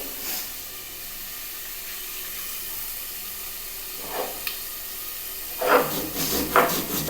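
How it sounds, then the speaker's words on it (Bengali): Steady soft hiss of frying under a covered lid, from pulses of black gram (biulir dal) cooking for aloo posto, low and continuous with a few louder crackles near the end. "এটা ভাজা হতে থাকুক এবার এটা একটু চাপা ঢাকা দিয়ে দিলাম"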